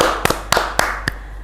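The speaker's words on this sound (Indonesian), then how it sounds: "Tepuk tangan." Four sharp, close hand claps ring out in a loose rhythm, each a crisp single smack with a short gap, over a faint low hum.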